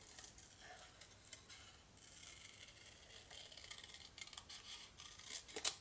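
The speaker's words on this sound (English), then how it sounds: "I'm actually going to fussy cut this sentiment" Small scissors snip carefully around a stamped paper card sentiment, with quiet, irregular clipping and ticking cuts close by in a calm room.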